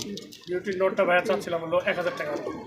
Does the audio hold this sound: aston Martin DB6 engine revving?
no